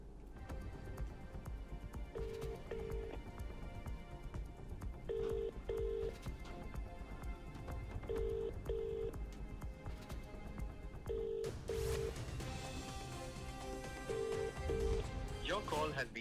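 An unanswered phone call rings out as a repeated double-pulse ringback tone at steady intervals. A voice talks over the whole stretch, and a burst of noise comes near the end.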